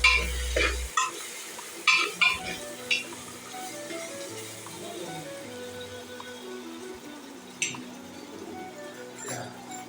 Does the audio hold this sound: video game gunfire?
no